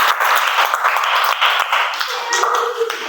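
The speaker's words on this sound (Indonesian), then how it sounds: "tepuk tangan dulu" Schoolchildren in a classroom clap together for a classmate's correct answer, a brisk burst of close, sharp handclaps lasting a few seconds with a few voices mixed in.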